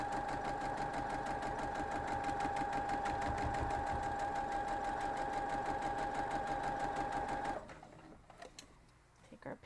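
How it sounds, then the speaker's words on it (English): Sewing machine running steadily while stitching quilt block pieces for a mitten block, a continuous close, loud mechanical whir that stops abruptly near the end, leaving a few faint handling clicks. "So we are just going to sew this one."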